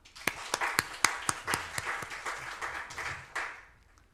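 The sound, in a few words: congregation applause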